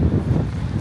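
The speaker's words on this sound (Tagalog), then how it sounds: "Medyo mahangin pero at least hindi maulan." Wind blows outdoors on a breezy day near a bus station, buffeting the microphone in a brief, rough, low rumble.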